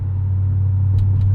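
A 2003 Mercury Marauder's 4.6 liter V8 cruising at around 1500 RPM, a loud steady low bass rumble heard from inside the car, with a couple of faint brief clicks near the end.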